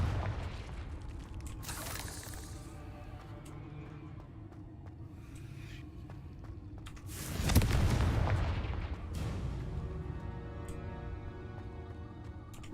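Blasting explosion from the Confringo spell in Hogwarts Legacy, a loud broadband boom near the middle rising out of a steady rumbling game soundscape, with a few smaller bursts around it.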